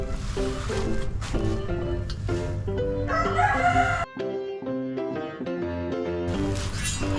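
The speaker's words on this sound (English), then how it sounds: "Roosters are happy." Roosters crow over a busy, layered background of tonal sound, with the crowing rising and falling several times across the clip.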